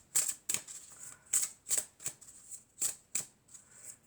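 Tarot cards being shuffled in a run of about eight crisp, papery riffles and snaps, evenly spaced and close, with no voices over them.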